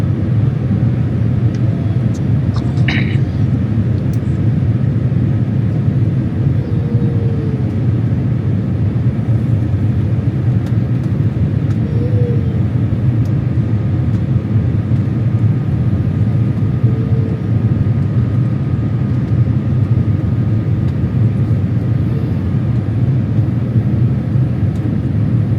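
Steady loud rumbling cabin drone inside an airliner descending into Guangzhou Baiyun International Airport after a flight from Singapore Changi, a constant low roar throughout with faint brief tones.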